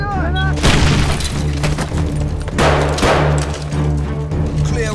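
A frag grenade blasts inside a building in a Call of Duty military mission, two or three close booming bursts with shattering debris amid soldiers' radio chatter and a steady engine-like hum.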